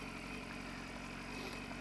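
A steady 2015 BMW S1000RR sports motorcycle engine rumbling continuously with a throaty exhaust tone, no talking.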